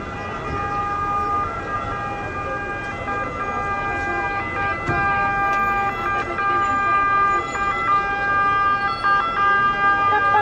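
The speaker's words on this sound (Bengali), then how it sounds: "ফায়ার সার্ভিস না অ্যাম্বুলেন্স?" An emergency vehicle siren, fire service or ambulance, wails outside a home in Turin, Italy, after an accident; a loud, cycling two-tone wail persists throughout over a low hum of road traffic.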